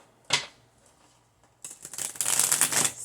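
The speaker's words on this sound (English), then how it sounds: "So I really want to shuffle them really good." Tarot cards get a brisk shuffle up close: a single quick riffle, a pause, then a longer run of crisp fluttering snaps building louder.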